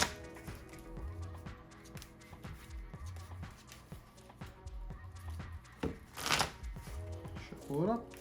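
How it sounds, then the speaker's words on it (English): A deck of Pokemon trading cards is shuffled on a tabletop in quick repeated riffles and taps, fairly quiet, with a soft bump and a short whoosh near the end. "Shuffle it up."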